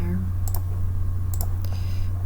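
A computer mouse gives a few sharp, close clicks in quick pairs over a steady electrical hum, with a brief voice at the start.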